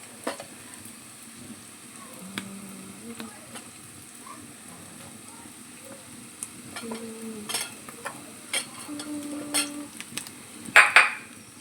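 Chicken frying with masala in a pan, giving a quiet, steady sizzle under light scraping and stirring, with scattered clinks of a spoon against the pot that grow sharper and louder toward the end.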